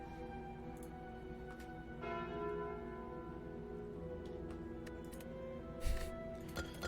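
A bell rings in the Slay the Spire video game as the Calling Bell relic is taken: sustained, shimmering tones hang and slowly fade, moderately loud over a steady background hum.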